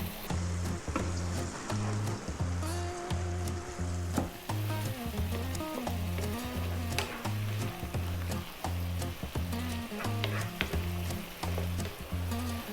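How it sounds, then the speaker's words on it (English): Tomatoes cook in a pan just above medium heat for a cream sauce vegetable spaghetti, giving a steady, continuous sizzle throughout, with a rhythmic music bed playing underneath. "You want to kind of just cook those tomatoes out."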